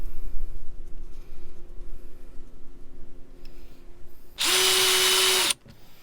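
A power drill drives a screw into an outboard throttle box, with one loud, steady whir lasting about a second near the end, after quiet handling clicks and faint rustling.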